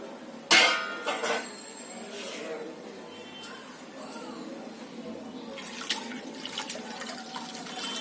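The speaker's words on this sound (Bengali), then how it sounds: "এর মধ্যে আরো একটু আমি দুধ অ্যাড করছি" Milk poured into a pan while making rabri, a Bengali sweet: a sudden splash followed by a gentle liquid trickle and stirring sounds, close and fairly quiet, with a person talking at moments.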